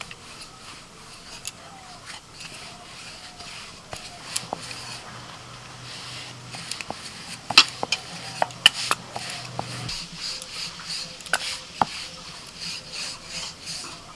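Dough balls for butter naan are rolled out with a rolling pin on a dusted surface, producing soft rubbing and rolling sounds with scattered light taps and knocks, moderately close and quiet.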